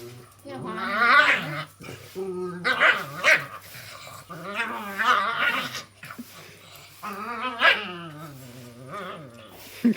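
Dogs bark and growl in a scuffle that involves biting, with harmonic snarls and yelps coming in bursts beneath nearly continuous excited human talk.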